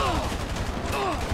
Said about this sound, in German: das finde ich cool, dass die noch weiter ballern, wenn die schon am Boden sind